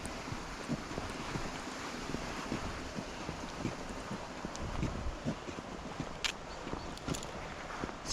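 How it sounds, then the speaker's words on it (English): A forest brook flows steadily as a broad, continuous rush of water, close and fairly even, with a few faint knocks or rustles near the end and no talk. "You can hear the brook coming down here."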